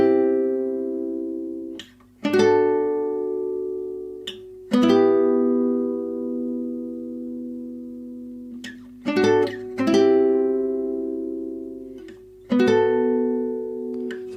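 Guitar picking a melodic line from The Last of Us Part II, plucked notes ringing out in several sustained phrases with short gaps between, played alone and close.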